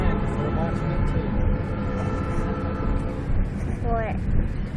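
A short CN freight train rumbles past nearby in downtown Jackson, a steady heavy roar with squealing wheel tones rising near the end.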